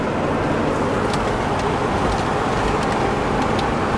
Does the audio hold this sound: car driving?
yes